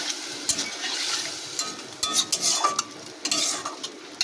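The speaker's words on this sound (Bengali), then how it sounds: "মশলা ধরা জলটা অল্প পরিমাণ দিয়ে দেবো দিয়ে দিয়েছি একটু নাড়িয়ে নেব" Spiced fish bhujia made with lote (Bombay duck) is stirred in a pan after a little spiced water goes in, giving a continuous sizzle with repeated scraping clicks of a utensil against the pan, close and fairly loud.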